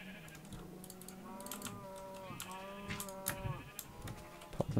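Drawn-out, wavering animal calls sound one after another at moderate distance, with rapid tapping and clicking close by in the foreground.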